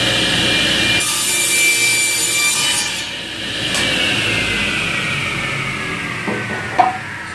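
A hand saw cuts through a scrap wood board in steady, rasping back-and-forth strokes, loud and close, ending with a small knock as the cut finishes; no talk.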